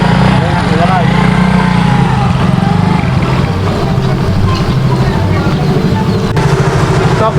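A motorbike engine runs steadily on a road, its low, throbbing drone continuing throughout, with people talking over it.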